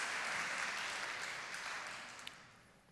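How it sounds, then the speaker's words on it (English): A church audience claps together, a dense wash of applause that fades gradually over a few seconds, heard from a distance. "Clap it up, y'all."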